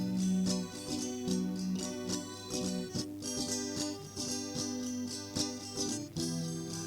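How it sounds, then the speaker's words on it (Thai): Guitar played in a Thai-style pop song arrangement, steady plucked notes and chords running continuously at moderate volume within a full musical mix, with no talking. "อันนี้กีตาร์กัน"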